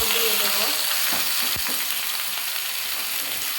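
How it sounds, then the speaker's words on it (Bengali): Malabar spinach fries with onions and garlic in hot oil, a loud continuous sizzle with a few stirring scrapes early on, close and without speech. "ভালোভাবে 2 মিনিট আরও ভেজে নেব।"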